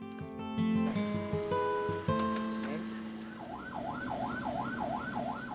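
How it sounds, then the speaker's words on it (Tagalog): A wailing emergency siren rises and falls in a rapid, regular cycle, following a busy stretch of mixed music-like tones and noise. "inilipat naman si Delphine sa isang ambulansya."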